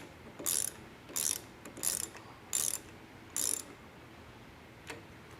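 A ratchet with a 7/8 inch socket snugging down a nylock nut, five short bursts of rapid clicking in an even rhythm, close and fairly quiet, followed by a faint single click.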